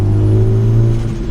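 A Honda Civic Type R tuned to 600 hp accelerates, its engine a steady, loud, close drone held throughout with no talk.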